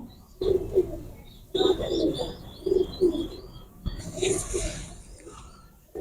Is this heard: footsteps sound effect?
no